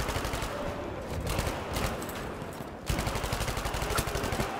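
Rapid automatic gunfire from hip-fired weapons in the video game Battlefield V, a dense, loud stream of shots running the whole time with a brief dip before a fresh burst; no talk.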